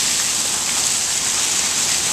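Steady rain pours down outdoors in a broad, even hiss that fills the whole moment, close and fairly loud with no voices over it.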